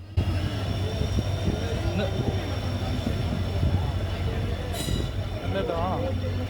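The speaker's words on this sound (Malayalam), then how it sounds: "അഞ്ച് അൻപതോടുകൂടി ഷൊർണൂർ സ്റ്റേഷനിലേക്ക് ട്രെയിൻ എത്തിച്ചേർന്നു" A train rolls into Shoranur station with a steady low rumble of wheels on rails, a brief high squeal of wheels partway through and a faint voice in the background.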